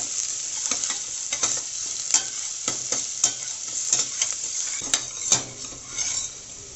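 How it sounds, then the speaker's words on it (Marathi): Onion sizzles and browns in a pan, a steady hiss punctuated by repeated scraping clinks of a spoon stirring against the metal. "आता कांदा आपण थोडासा हा ब्राऊन करून घेणार आहे"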